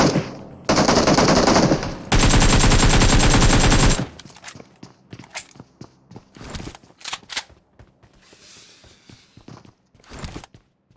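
Bursts of automatic gunfire in the mobile battle royale game PUBG Mobile: two loud sustained volleys in the first four seconds, then scattered sharper shots and footstep-like clicks at lower level.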